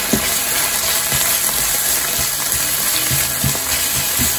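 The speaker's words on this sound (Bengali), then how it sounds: "এটাকে একটু ভেজে নেব।" Garlic and ginger paste frying in a pan, giving a loud, steady, close sizzle with faint scraping stirs underneath and no talking.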